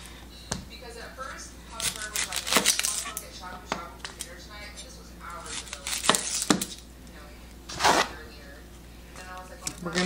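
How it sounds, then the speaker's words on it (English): A knife slicing red onion for a sandwich, heard as a series of crisp cutting and board knocks with clattering, spread unevenly across the stretch and mixed with a person talking nearby. "I'm gonna slice some onions for the sandwich."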